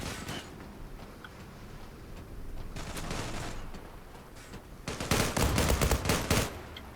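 Gunfire in the online shooter Zula as a magazine is emptied: a steady crackle of distant shots, then a loud, rapid burst of automatic fire near the end, with no talking.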